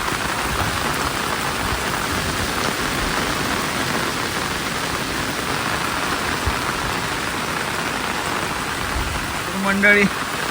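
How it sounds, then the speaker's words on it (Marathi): Heavy monsoon downpour over fields in the Konkan countryside, a dense, unbroken roar of rain close by that fills the whole scene, with a brief clatter near the end. "त्या साईडला बघा असा पाऊस पडतोय घनघोर एकदम फुल."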